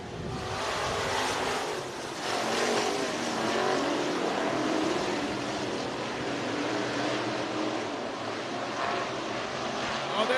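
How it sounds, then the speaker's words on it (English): Modified race cars in a dirt-track heat race at Grays Harbor Raceway, Elma, Washington, with several engines roaring loudly and continuously as the pack circles, a crowd-like wash of noise holding steady throughout. "Here we go. Final heat race for the modifieds."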